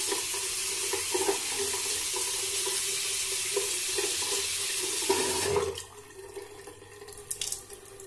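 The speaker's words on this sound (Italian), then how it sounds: "Risciacquo un po' il pennello perché ho visto l'acqua un po' bianca" A shaving brush, a Shavemac 173 silvertip, is rinsed under a running tap, with a steady loud hiss of water that cuts off near the end, leaving a few faint drips and handling clicks.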